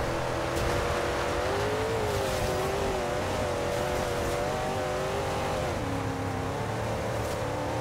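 A car drifting and revving in the racing game Forza Horizon 2, a loud continuous engine whine rising and falling in pitch as the revs swing, steady and close throughout, no talking.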